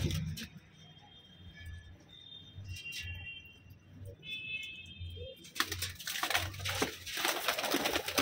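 Madrasi Tatire pigeons in a loft coo in soft, repeated low pulses, close and fairly quiet, ending in a burst of louder rustling noise.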